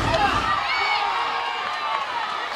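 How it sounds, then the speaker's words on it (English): A big stadium crowd of young fans cheers at a college softball game between Arkansas and Georgia, a sustained roar of many voices with rising shouts, continuous and fairly loud throughout. "Big crowd, a lot of youngsters making their voice heard right now"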